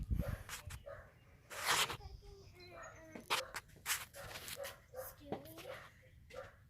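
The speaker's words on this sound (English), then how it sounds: "Who's Gia barking?" A dog barks in short, sharp bursts with whimpers between them, heard faintly at a distance under low background noise.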